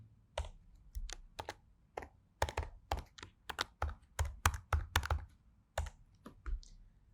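Fingers type a short command on a computer keyboard, a quick irregular run of crisp close key taps with brief pauses between bursts, alone and quiet.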